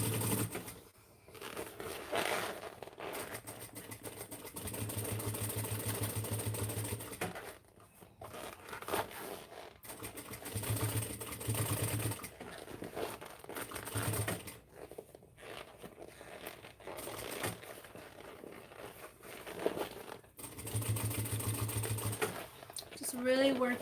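A sewing machine stitching a backpack runs in several steady humming bursts between pauses, close by, while a person talks throughout.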